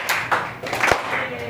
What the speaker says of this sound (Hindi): तालियां बजा दो प्लीज भाई के लिए, धीरे धीरे वाली तो बजानी है